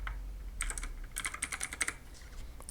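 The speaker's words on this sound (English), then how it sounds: "or you can just type it here." Keys clack on a computer keyboard in short irregular bursts of crisp taps, close and clear, with brief pauses between runs and no voices.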